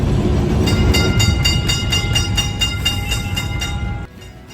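An old Kolkata tram rolls along city rails, a loud steady rumble and rattle with a rhythmic run of bright metallic clicks and ringing tones, cutting off abruptly near the end.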